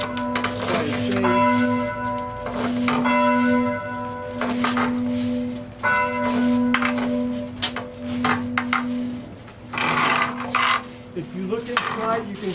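An upper church bell, rung by a chain, strikes again and again at a steady, even pace. Each loud nearby clang rings on and fades before the next swing, and the strokes come evenly for the whole stretch.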